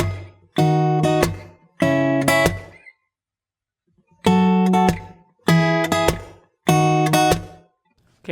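An acoustic guitar plays a song's chord progression: bright, close strummed and plucked chords in short bursts, separated by brief silences, with no voice.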